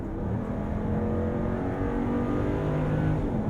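A 2022 Jeep Grand Wagoneer engine hums and revs steadily under manual gear pulls, heard from inside the cabin as a constant, moderately loud drone with no voices.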